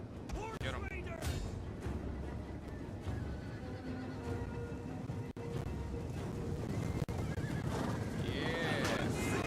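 Horses whinnying and galloping in a Total War: Attila battle, loud neighs over dense hoof clatter and battlefield din, running throughout the scene alongside the game's roar.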